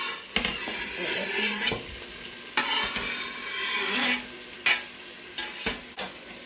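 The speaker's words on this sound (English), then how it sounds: "now my mum's going to put the onions into the meat so it combines with flavour" Onions stirred into meat frying in a pot for a Gambian peanut butter soup: a continuous close sizzle broken by regular scraping strokes and occasional knocks of the spoon against the pan, with no speech.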